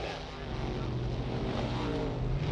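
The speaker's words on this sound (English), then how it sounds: "Getting off to a roaring start for the national record run" Early-1960s drag racing car at the Winternationals roaring off the start line, a loud sustained engine roar with steady low rumble filling the whole moment, no voices.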